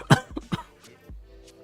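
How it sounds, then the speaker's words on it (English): A quick, close burst of three sharp coughs, the first loudest, followed by a brief soft throat noise and then quiet. "Hold on, I coughed."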